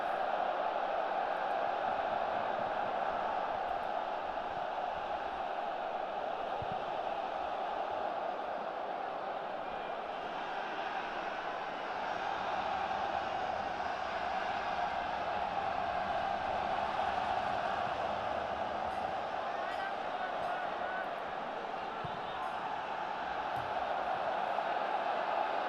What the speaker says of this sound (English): Crowd beginning to enjoy themselves.